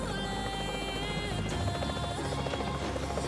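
Helicopter in the game PUBG Mobile, a steady close rotor drone with a pulsing low thrum and engine whine that persists throughout, with no talking over it.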